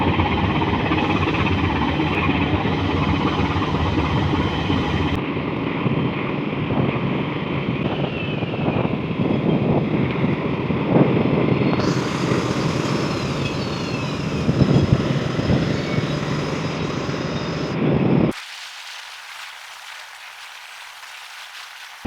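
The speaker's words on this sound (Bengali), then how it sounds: "এখানে পূবালী 12 তার ইঞ্জিনের গতি একটু বাড়াইছে।" The passenger river launch Pubali 12 on the Meghna river gives a continuous low engine drone mixed with rushing wind and water. The sound drops abruptly to a thinner hiss near the end.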